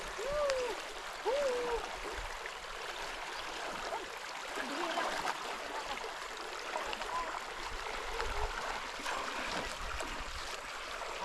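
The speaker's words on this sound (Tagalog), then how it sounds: "Sa bandang ito, malakas ang agos." A strong river current rushes steadily along an outdoor family nature adventure, forming a continuous broadband wash of flowing water with a few faint tonal calls over it.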